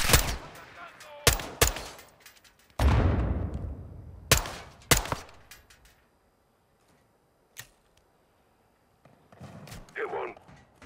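Gunfire in the Call of Duty Modern Warfare 2 video game: several sharp, loud shots and bursts in the first five seconds, one booming blast with a long tail, then quieter gaps with a lone later shot and brief talk.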